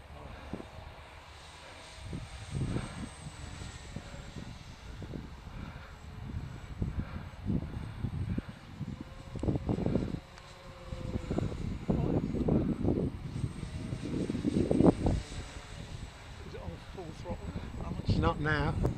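A radio-controlled model airplane engine run at full throttle, a buzzing whine that rises and falls as the plane passes, fairly faint and distant, with wind and a person talking over it.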